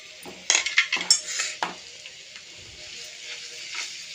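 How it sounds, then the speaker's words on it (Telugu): A ladle stirs potato samosa stuffing in a metal pan, a quick burst of scraping clinks and knocks for about a second, then a faint low sizzle carries on alone. "వీడియోలో చూపిస్తున్న విధంగా గరిటతో మొత్తం మిక్స్ అయ్యేలాగా కలుపుకోవాలి"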